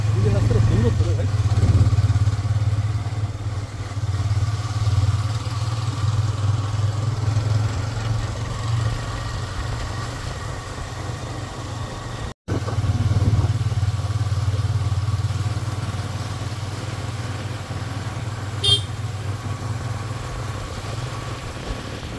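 A motorcycle rides along a road on a trip out from Kolkata toward Jhaluarber, its engine giving a steady low drone with wind rush throughout, briefly cut off midway, while people talk over it.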